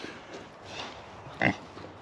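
A young Idaho Pasture Pig boar on a heritage farm gives a short, loud grunt near the end, after a stretch of faint low snuffling and rustling close by.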